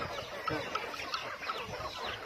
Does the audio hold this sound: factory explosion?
no